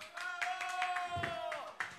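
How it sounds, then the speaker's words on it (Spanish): A live concert audience claps at a faint distance, with scattered hand claps mixed under a sustained singing voice. "fuerte el aplauso."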